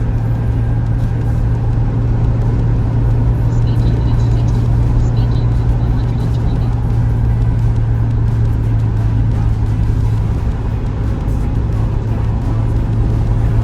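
A Suzuki Jimny fitted with 80mm lift coils rounds a corner, heard from inside as a loud, steady engine and road drone with a low hum throughout.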